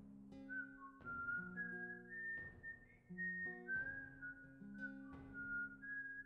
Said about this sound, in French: Tu entends des sifflements au loin.